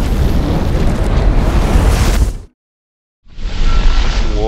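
Detonating cord blasts against a ballistic torso in a loud, broadband roar that cuts off abruptly, then after a second of silence a second loud, rushing burst returns.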